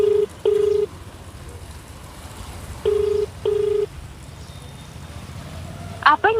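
A phone call rings through on the line as two pairs of steady ringback tones with pauses between them, followed by a short rising chime at the end, over faint background noise.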